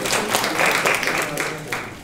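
Audience applause at a yoga instructors' conference, a steady burst of many hands clapping together for about two seconds, moderately loud and continuous.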